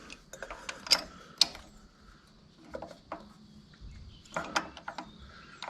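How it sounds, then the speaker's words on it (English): A wrench works a badly rounded nut on a Cat D3 dozer, producing scattered metallic clicks and ratcheting scrapes in irregular bursts, close but quiet. "I got to get this ridiculously rounded nut tightened up"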